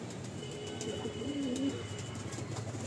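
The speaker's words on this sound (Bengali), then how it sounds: "পায়রাটা প্রচণ্ড ছটফটে পায়রা, মানে মারাত্মক ছটফটে পায়রা" A restless female loft pigeon gives one short, low, wavering coo near the middle, close by, over steady room hiss and faint background noise.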